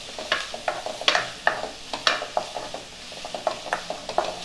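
Vegetables being lightly sautéed for mushroom fried rice: a spatula scrapes and taps against the pan in quick, irregular strokes over a soft sizzle, close and fairly loud.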